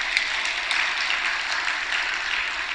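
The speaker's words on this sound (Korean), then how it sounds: "박수 한번 쳐줘요." Steady applause from a church congregation fills the space, a dense even wash of many hands clapping at moderate volume with no pauses.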